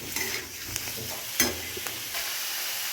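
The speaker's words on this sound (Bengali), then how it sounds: "দিয়ে ভালো করে এটাকে আবারও নাড়াচাড়া করব" Cauliflower leaves fry with turmeric and salt while a spoon stirs them, giving a soft sizzle punctuated by scraping clinks against the pan, close and without talk.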